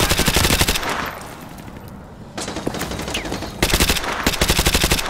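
Automatic gunfire in Call of Duty Modern Warfare 2 Remastered, loud rapid bursts at the start and end with a quieter echoing stretch between, no talk.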